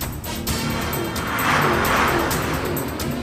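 A car races along fast during a chase, its engine and tyres making a loud, continuous roar that swells in the middle, with no talking.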